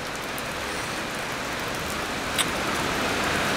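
Heavy rain pours down in a dense, steady hiss, loud and unbroken, with a single brief knock partway through and no voices.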